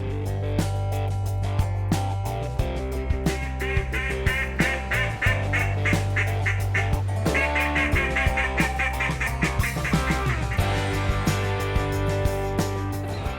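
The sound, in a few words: duck call being blown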